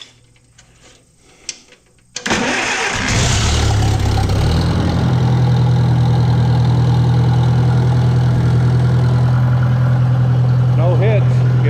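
An International 300 utility tractor engine turns over briefly, catches and roars to life, then settles into a steady, loud, rumbling idle with a ticking rhythm that continues to the end.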